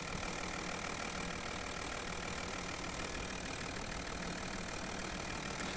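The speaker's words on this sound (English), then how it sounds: "And this is my engine working." A car engine idles steadily after a flush with kerosene and engine oil, a continuous even hum with broadband mechanical noise and no breaks, close and fairly quiet throughout.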